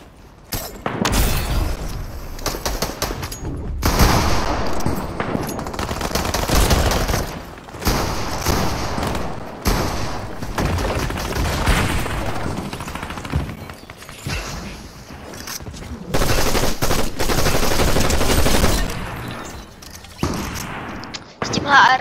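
Rapid gunfire bursts from the online shooter game The Pit, loud and dense with short pauses between volleys, running throughout.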